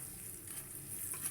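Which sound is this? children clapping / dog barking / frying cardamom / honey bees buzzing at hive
frying cardamom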